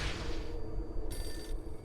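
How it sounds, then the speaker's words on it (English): A telephone rings in the video game Hotline Miami, a brief bright electronic trill partway through, heard over a low game soundtrack and fairly faint overall. "The phone's ringing."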